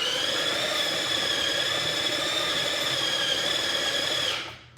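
An electric mixer beats apple tart dough on high speed, a steady, loud motor whine with a constant pitch that runs unbroken for over four seconds before cutting off abruptly at the end.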